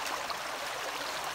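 Creek water flows steadily over rocks near an old stepping stone, a continuous close hiss and babble with no voices.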